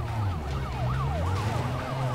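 Police sirens wail in a video game chase in Need for Speed Most Wanted, with rising and falling tones sweeping repeatedly over a loud, steady engine drone, without talk.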